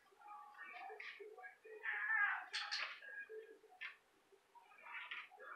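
Soft, close meows and chirps from a cat come in short bursts, mixed with quiet voices talking to it.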